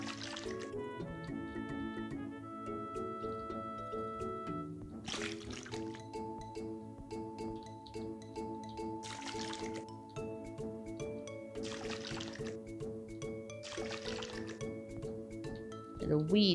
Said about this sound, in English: So we'll water everything.